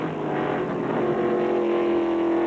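NASCAR Featherlite Southwest Series race cars roar loudly around an oval in a steady, sustained engine drone, one engine note rising in pitch as it accelerates, with no talk over it.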